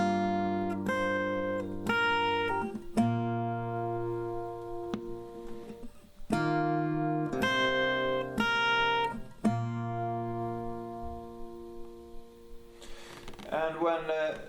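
Acoustic guitar slowly playing a chord progression, plucked bass notes and ringing chords moving in steady phrases, fairly quiet and close, with a brief voice near the end.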